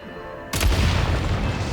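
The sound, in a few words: explosives detonated by gunfire in the video game Genshin Impact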